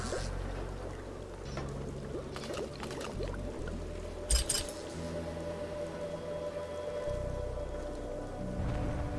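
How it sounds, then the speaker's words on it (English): Steady rain falls in the video game All Will Fall, a constant close patter and hiss with a low rumbling bed and one brief louder knock partway through. "rain is coming in though"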